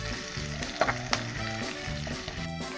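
Onions frying in a pan for a Goan green sardine curry, a steady close sizzle and crackle with small pops and a faint stirring scrape.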